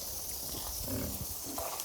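Pigs grunting and snuffling close by in a steady, noisy farm pen in Jamaica, with low rough oinks rising through the middle and again near the end.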